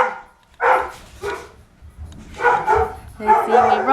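A dog barks close by on a walk in short, loud bursts with brief pauses between them, some barks edging into whiny yips.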